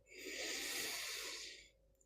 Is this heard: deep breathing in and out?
yes